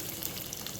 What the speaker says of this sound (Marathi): कच्चेपणा जाईपर्यंत व्यवस्थित तेलात परतून घ्यायचा